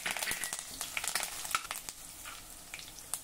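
Green and red chillies, bay leaves and curry leaves sizzle in hot oil in a pan for a pumpkin dish, a close crackling hiss with scattered sharp pops that gradually softens.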